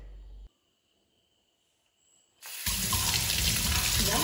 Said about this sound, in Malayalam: ഇപ്പം ഇതാ ടാപ്പിൽ വെച്ച് ഞാൻ നല്ല പോലെ കഴുകി എടുത്തു കേട്ടോ.